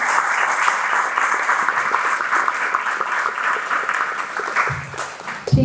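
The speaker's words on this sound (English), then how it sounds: "Can we give a round of applause for everyone?" Audience applause at a live talent stage during a Somali festival event, a dense, steady clatter of many hands clapping throughout, fairly loud and continuous with a few louder claps near the end.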